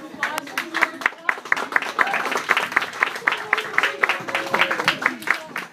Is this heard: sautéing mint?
no